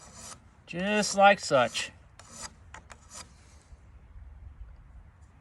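A hand file rasps along the blade of a pair of hoof nippers in short rapid bursts, strongest over one close stroke sequence, with a few lighter strokes after and a brief spoken phrase.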